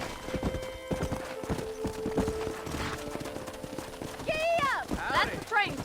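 A horse's hooves clip-clop in a steady trotting rhythm in Red Dead Redemption, close and clear, with a whinny near the end and people talking over it.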